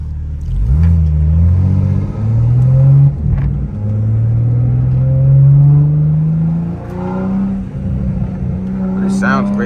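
BMW M3 G80 engine revving hard through high RPM on a night city drive, loud rising engine tones climbing repeatedly with gear changes between pulls, heard from inside the car with a voice speaking over it.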